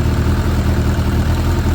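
A 2006 Suzuki GSX 600F Katana motorcycle engine idling steadily, with a loud, even low rumble that stays constant throughout, close by.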